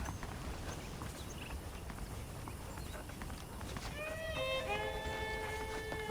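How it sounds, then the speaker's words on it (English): Saddled horses in Red Dead Redemption, with soft hoof clops under a continuous outdoor ambience and a drawn-out whinny rising clearly near the end. "The horses are saddled up over here."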